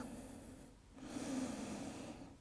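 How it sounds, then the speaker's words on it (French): Slow yoga breathing, a quiet inhale and then a longer, fuller exhale through the nose or mouth, close and soft with no talking. "Et on expire sur place. Inspire et expire."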